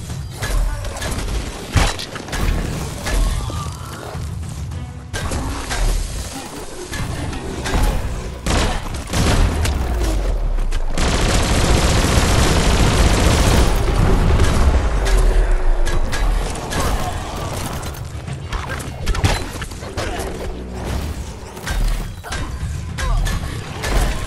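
Gunfire, mechanical clatter and a long rumbling explosion in the action video game Biomutant, loud and dense, with a sustained roar through the middle.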